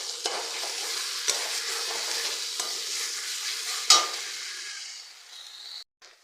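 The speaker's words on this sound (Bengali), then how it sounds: "তো এগুলো দিয়ে এখন একটু নাড়াচাড়া করবো।" Steady sizzling in a frying pan with scraping strokes as ground spice paste for egg curry is stirred, a sharp clink near the middle, then the sizzle fades toward the end.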